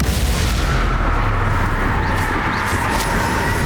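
A Bombarda blasting spell explodes in the Hogwarts Legacy video game, giving a loud, steady rumbling boom with heavy bass that fills the whole stretch, no talking over it.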